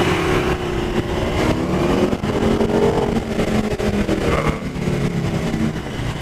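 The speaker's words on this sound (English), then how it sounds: "watching some high performance cars go around" High performance cars roar around a race track, a loud continuous engine drone with revving rising and falling close by, no talking.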